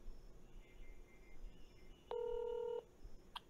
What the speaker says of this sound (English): You can hear his phone.